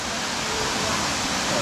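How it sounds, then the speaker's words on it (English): Florence Falls in Litchfield National Park roars with a loud, steady rush of falling water heard from the bottom of the falls, constant and close. "We're at the bottom of Florence Falls now"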